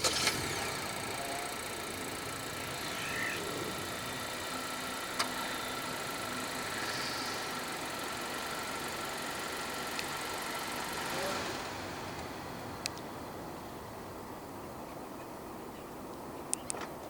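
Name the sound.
2023 Honda Accord 1.5 engine idling after remote start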